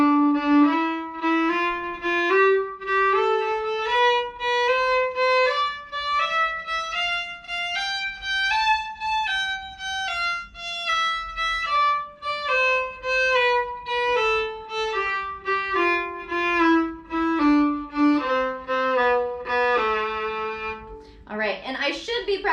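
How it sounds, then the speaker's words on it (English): Gypsy jazz violin exercise slurring every other note, a clear solo line climbing and descending a scale in steady even notes, close and alone, ending with a brief scratchy bow noise. "now we are slurring every other note."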